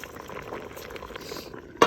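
Banana and sweet potato boiling in a pot, a steady low bubbling and simmer close up, ending in a brief louder clatter.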